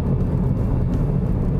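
A Volkswagen Virtus GTS with a turbocharged engine drives on a track, its engine a steady low rumble heard from inside the car without any talking.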